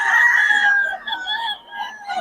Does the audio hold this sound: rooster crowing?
yes